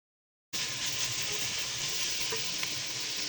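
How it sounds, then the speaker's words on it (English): Chopped onions and capsicums for chicken Manchurian hit a hot pan and fry with a loud, steady sizzle that starts abruptly and runs to the end, with faint stirring clicks under it and no voices. "Now add cutted onions and capsicums and stir it well."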